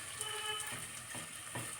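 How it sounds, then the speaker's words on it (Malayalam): Chicken pieces fry in rice bran oil for a tharī biryani, giving a steady, fairly quiet sizzle with a few soft stirring knocks and no talking. "ഞാൻ സാധാരണ നമ്മുടെ റൈസ് ബ്രാൻ ഓയിലാണ് ആ ചിക്കൻ വറുത്ത് എടുക്കുന്നത്"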